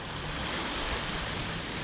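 Waves on the Volga river in Samara wash ashore in a steady broadband rush of surf, close and continuous, heard alone without voices.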